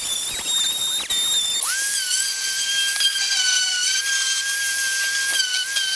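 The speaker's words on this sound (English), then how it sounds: "I'm going to use an orbital sander to make sure this curve is all the same on all of them." Orbital sander whirring steadily against clamped wooden porch swing seat struts, a loud continuous high whine that shifts pitch slightly and stays unbroken without any talking.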